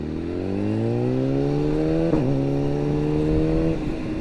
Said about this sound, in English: Bike seems to be running in tip-top shape.